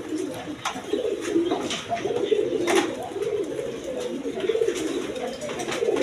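Giribaj pigeons coo steadily in overlapping low, throaty phrases, close and continuous against a busy background hiss, with no clear speech.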